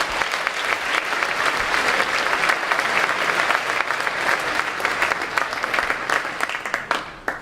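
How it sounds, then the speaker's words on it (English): Steady, dense applause from a large crowd at a high school baccalaureate ceremony, continuous for the whole stretch and tapering slightly at the close. "How about another round of applause for Sean Flynn, Abby Sloper, Miss O'Day, and"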